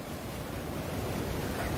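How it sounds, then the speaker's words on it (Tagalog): Big sea waves surge and roar continuously around a small boat trying to cross, a broad rushing wash mixed with wind buffeting the microphone, loud and close with no talking. "Lalaki ng alon eh."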